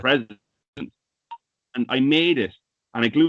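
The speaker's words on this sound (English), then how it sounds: "that's my phone beeping at me" A mobile phone gives a single short electronic beep during a pause in a person's talking, brief and moderately loud under the surrounding speech.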